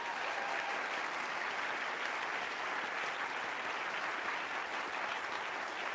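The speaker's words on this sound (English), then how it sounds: "Let's give them a round of applause." An audience applauds researchers from the OSIRIS-REx asteroid sample mission team, a dense, even roar of many hands clapping that holds steady for several seconds without any speech.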